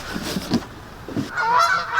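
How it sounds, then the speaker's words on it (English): Geese honk in a backyard, making several harsh, nasal calls at a moderate distance. They start as scattered honks and build into a squabbling chorus toward the end, with no one speaking. "we have a lot of geese around us"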